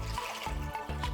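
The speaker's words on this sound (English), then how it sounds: "So I'm putting in 10 cups of water." Water pours into a pot to make saimin broth, a close, steady splashing and gurgling stream with small surges in its flow.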